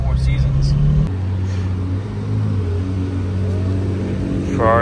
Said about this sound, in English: Ferrari 812 Comp Aperta. We just got it leaving.